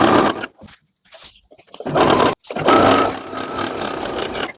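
A sewing machine stitches the side of a vest in several loud, close bursts of motor whir separated by brief stops and silences.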